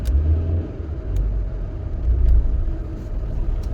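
A car grinds its way over hilly roads in a steady, deep low rumble that swells and eases with the engine, close and unbroken, with faint higher clicks now and then and no voices.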